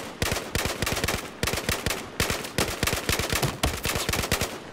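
Rapid automatic gunfire in Battlefield 4 multiplayer Conquest on Xbox One, heavy-recoil weapon firing in four or five close, loud sustained bursts separated by brief gaps.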